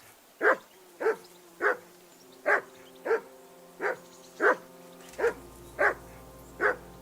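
A dog barks repeatedly at an even pace in the video game Kingdom Come: Deliverance II, about ten single woofs spaced under a second apart, loud and close against a quiet background.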